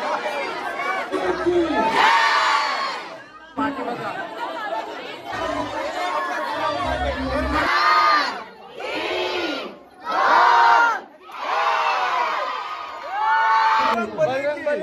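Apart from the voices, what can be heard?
crowd gathered to see festival decorations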